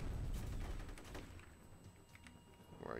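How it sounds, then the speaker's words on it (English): A turret weapon in the game F.E.A.R. fires in a steady, rattling burst of rapid shots that fades a little, then a sharp swell rises at the end. "I gotta use a nice turret weapon again"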